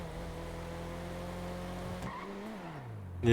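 A car in a driving video game brakes with a falling engine whine, then a tire squeal and skid bursts loudly at the very end.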